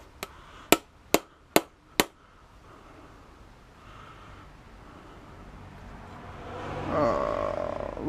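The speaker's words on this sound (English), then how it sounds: "This looks like it would hammer right out, so I don't have to go get my Sawzall." A brass bushing is hammered out of a fridge fan motor: four sharp, evenly spaced metallic blows ring out close by, then quiet handling noises and a rustling scrape follow.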